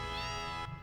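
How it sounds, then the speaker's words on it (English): A cat meows inside the Final Fantasy VII game, one drawn-out harmonic mew lasting most of a second, close and clear over quiet game ambience. "Did I just hear a cat?"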